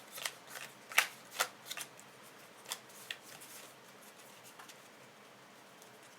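Playing cards shuffled on a table: a few quick, soft riffling and patting bursts close by, each brief, followed by quieter card shuffling.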